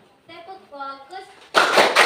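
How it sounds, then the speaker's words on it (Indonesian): Children clap together in a sharp, rhythmic burst near the end, loud and close, following a stretch of chanted voices in a school classroom. "Tepuk fokus."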